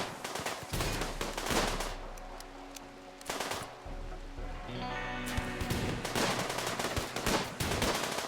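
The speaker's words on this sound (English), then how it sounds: "So much machine pistol." Rapid bursts of machine pistol gunfire rattle in the video game Rimworld, repeated clusters of sharp shots separated by brief pauses over a low background hum, with no talking.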